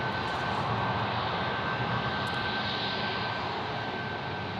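Jet engines of an Airbus A321neo roar in a loud, steady broadband wash with a thin whine above, continuous and close for a few seconds without voices.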